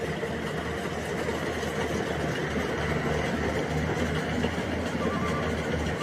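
A rice harvesting machine works a paddy field, its engine running in a steady, close, continuous drone with faint rattling over it.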